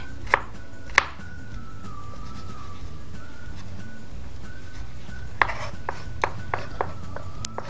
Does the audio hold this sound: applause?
no